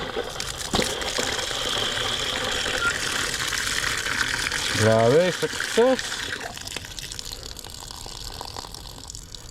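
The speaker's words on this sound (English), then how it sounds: "And that's water that's leaking out from the antifreeze valve." Water gushes from a newly replaced outdoor sillcock antifreeze valve as it is turned on, a steady splashing flow with a few squeaky handle or pipe tones, while someone speaks briefly.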